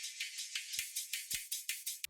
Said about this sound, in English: So first I'm adding a frequency shifter to make it sound pitched up. So it sounds like this.